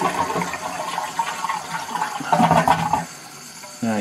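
A household toilet flushing to drain its tank, a loud, steady rush of water that gurgles for about three seconds, then quiets briefly before resuming.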